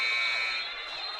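A buzzer sounds at the end of a quarter in a girls high school basketball game, a steady electronic tone held for over a second, loud and close against arena noise.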